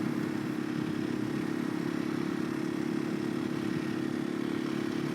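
A KTM 500 EXC-F dual sport motorcycle being ridden, its engine a steady, close droning hum with a constant buzzing tone and no change in pace throughout.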